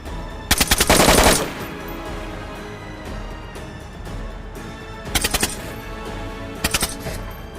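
Video game gunfire, mostly playing alone: a loud rapid burst of automatic shots near the start, then two shorter rattling bursts later on.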